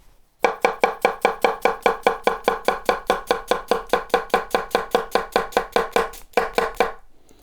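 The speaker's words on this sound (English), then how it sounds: "The first knife technique that I'm going to do for you is the tap chop, which is where you are going in a more up and down motion on your cutting board" A Chinese cleaver tap-chops an onion on a cutting board in a fast, even run of about thirty close, sharp knocks, with one brief pause near the end before a final few strikes; no voices.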